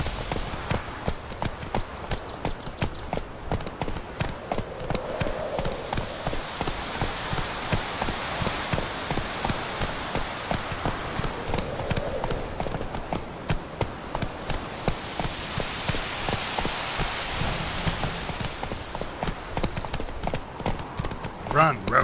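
Rapid, rhythmic hoofbeats of Geralt's horse Roach galloping in The Witcher 3, a steady clip-clop running throughout with faint rain-like texture and voices talking over it.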